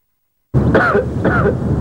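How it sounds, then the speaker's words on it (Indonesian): A man's heavy coughing in an old 1990s Indonesian TV ad, two harsh, throaty bursts that start abruptly after silence, loud and close. "batuk berat dapat membuat dirinya tak terkendalikan."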